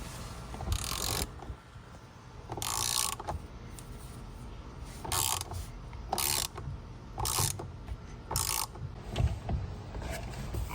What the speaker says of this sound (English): And then we'll probably have to hit it with the impact